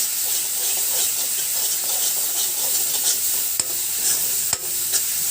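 Spices are stirred in a hot pan for mustard fish curry: a constant bright sizzle and hiss with scraping strokes of the spoon and a couple of sharp knocks against the pan, no voices.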